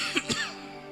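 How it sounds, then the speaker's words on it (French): Two short, hoarse coughs in quick succession, fairly close, followed by a faint quiet tail with no talking. "j'ai sérieusement la toux"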